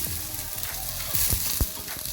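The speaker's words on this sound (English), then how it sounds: "I'm going to just put a little bit of coconut oil into the pan, which is already hot. And I'm going to add 1 onion" One onion hits hot coconut oil in an already heated pan, a loud close sizzle with several short stirring scrapes and clatters over the frying hiss.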